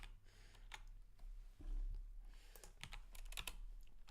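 Keys clatter in quick irregular bursts on a computer keyboard during web app coding work, with soft clicks scattered over a low room hum.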